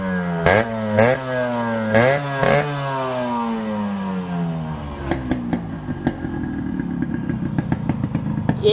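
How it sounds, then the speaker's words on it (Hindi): A Yamaha RX100 two-stroke motorcycle revs hard up close: four quick rising-and-falling throttle bursts, then a fast, crackling stream of exhaust pops as the engine settles into a rough, rapid beat. "ये मैं आपको सुना देता हूँ।"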